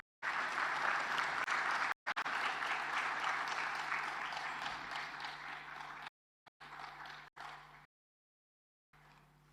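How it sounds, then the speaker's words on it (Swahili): Hearty applause from an assembled crowd at a state house ceremony as the president moves into place, loud and sustained, then cutting off into short bursts separated by silences. "makofi mengi tafadhali"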